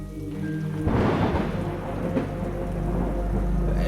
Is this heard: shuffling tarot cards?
no